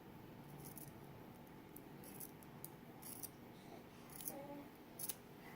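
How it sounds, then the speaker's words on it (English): Scissors snip at a slime-filled balloon in a few quiet, close metallic clicks and cuts over a low background hum. "now we're getting ready to cut the balloon to take the slime out"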